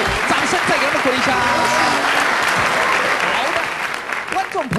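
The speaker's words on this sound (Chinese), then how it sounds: "掌声再给他们鼓励一下" Studio audience applause on a 1998 Taiwanese variety game show, dense steady clapping throughout, with a host's voice talking over it near the start and end.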